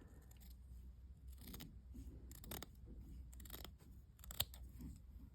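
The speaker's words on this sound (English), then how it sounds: "I'm just going to cut a little bit off" Scissors snipping through a sock while trimming it to size for a sock gnome, several short crisp cuts in irregular bursts, close and fairly quiet with no talking.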